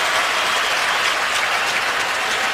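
A stadium crowd at an NFL game between the Pittsburgh Steelers and Oakland Raiders applauds an injured player with a steady, dense wash of clapping and cheering that holds throughout without talk.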